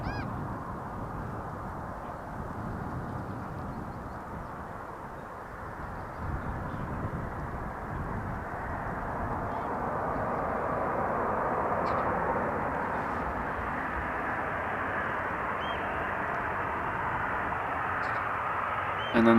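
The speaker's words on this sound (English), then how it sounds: "another one of the many Boeing 737s from KLM touching down" A KLM Boeing 737 touches down on the Polderbaan runway at Amsterdam Schiphol, a steady, loud broadband jet roar that swells slightly and holds for about twenty seconds.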